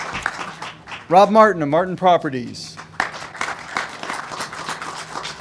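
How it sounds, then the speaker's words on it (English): Audience applause at a city press conference, a steady patter of scattered hands running under and after someone speaking into an amplified system. "Clap again."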